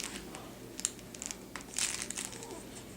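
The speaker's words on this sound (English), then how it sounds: "on the floor is a little thing that crinkles when her feet hit it." A baby's feet strike a crinkly pad on a floor toy, making soft, irregular crinkling and rustling bursts that are fairly quiet and close.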